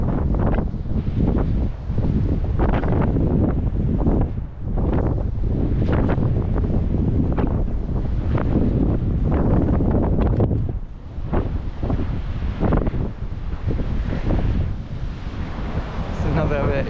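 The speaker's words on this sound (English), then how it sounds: "Wind currents around the coast are really something." Strong coastal wind buffets the microphone in heavy gusts along the Cornish coast path between Wadebridge and Newquay, loud and continuous with surging roars and brief lulls, and a faint wash of surf beneath.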